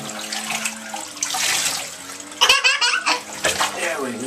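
Water splashing in a tub while a puppy is bathed, irregular sloshing and pouring close by, with people talking and laughing over it.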